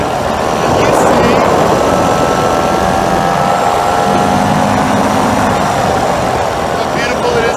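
Powered paraglider engine at full throttle in flight, a loud, steady, droning roar that stays constant throughout, with wind buffeting close to the microphone.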